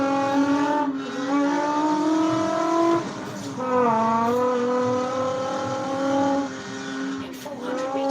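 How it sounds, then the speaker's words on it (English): A Nissan 370Z engine in the Forza Horizon 4 racing game, revving hard through rising gear pulls with shifts between them, loud and continuous with faint tire noise. "God, this 370Z sounds so good."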